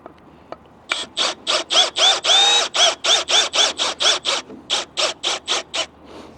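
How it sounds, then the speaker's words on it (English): A power drill drives screws while installing a TimberTech RadianceRail railing, giving around eighteen loud, evenly spaced mechanical bursts in quick rhythmic succession, close and alone. "Helps if I had the right drill."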